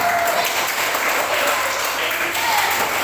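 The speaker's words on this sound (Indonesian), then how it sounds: "Beri tepuk tangan yang meriah." Schoolchildren and teachers clap at an elementary school quiz competition during a Ramadan event, a steady, lively patter of applause that fills the room for a few seconds.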